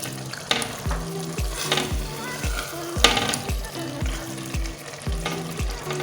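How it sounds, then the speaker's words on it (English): Spring onions frying in a pan for spaghetti bolognese, a bright continuous sizzle broken by regular spoon-scrapes against the pan roughly every half second, close and fairly loud, with no talking. "So I added my spring onions to it."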